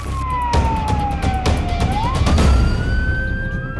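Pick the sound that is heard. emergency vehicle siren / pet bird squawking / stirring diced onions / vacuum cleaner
emergency vehicle siren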